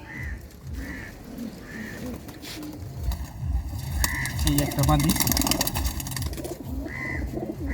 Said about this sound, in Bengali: আপনি যে কবুতরগুলা আপনি টুর্নামেন্ট খেলছেন, কিছু কবুতর আমার দর্শকদের দেখান একটু